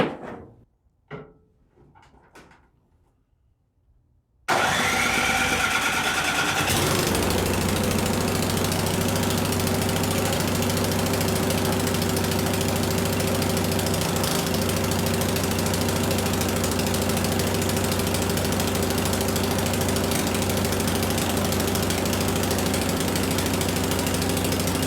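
Snow blower small engine under repair for not idling or staying running, a few pulls and sputters then catching and running steadily at a loud, close, even idle for the rest.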